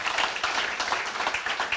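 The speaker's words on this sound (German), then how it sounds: "Gebt ihr ihm auch einen Applaus direkt." Applause from a conference audience as someone is called up to the stage, a dense steady patter of many hands clapping at moderate level, no voices on top.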